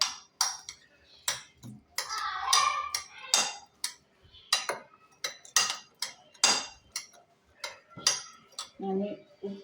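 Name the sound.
mixing corn bhel ingredients in a bowl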